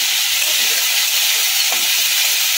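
Chopped ginger and green chillies fry in a pan as filling for mini singara, or Bengali samosas. A loud, steady hissing sizzle runs unbroken through the short stretch.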